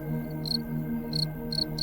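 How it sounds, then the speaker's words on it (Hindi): Short, high cricket chirps repeating in small bursts over a low, steady hum. "शुरुआत में उसको झींगुर के बोलने जैसी आवाज़ सुनाई देती है।"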